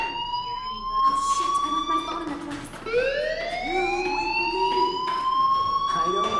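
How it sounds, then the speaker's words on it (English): A fire alarm rings through a school setting in Life is Strange Remastered, sounding as sustained tones that repeatedly sweep up in pitch, loud and continuous over faint background ambience. "Hey, do you hear that fire alarm? That means you should be outside."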